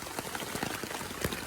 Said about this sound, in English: Rain's still happening, but it's a little less than it was.